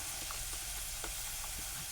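Capsicum and potato sautéing with masala in a pan, a steady close sizzle with faint stirring scrapes, continuous and fairly quiet with no talk.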